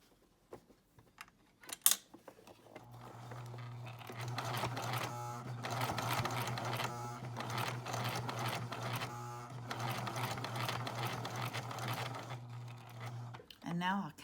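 A home sewing machine runs in a steady motorized hum with rapid needle chatter while stitching elastic into a homemade fabric face mask, stopping and starting near the ends, with a person talking quietly at times.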